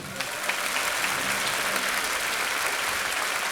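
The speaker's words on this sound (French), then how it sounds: "applaudissez-les" Crowd at a Jules Bianchi marathon prize ceremony applauding two organizers, a dense, steady burst of clapping at fairly close range, with faint voices beneath at the start.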